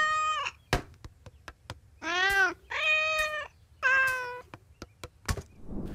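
Cartoon cats from The Simpsons meow in a quick series of loud, close, drawn-out cries, broken up by sharp knocks and clicks, with no talking over them.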